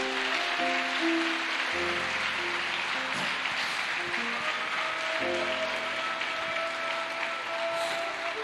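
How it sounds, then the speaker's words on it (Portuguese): Church congregation applauding during a Sunday evening service, a steady wash of clapping held under sustained organ or keyboard chords for the whole stretch. "Dá uma salva de palmas para Jesus, se você pode"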